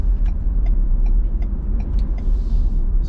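Cabin noise inside a 2020 Ford Explorer at 50 mph: a steady low road rumble with faint rushing air and small intermittent clicks and ticks from the interior.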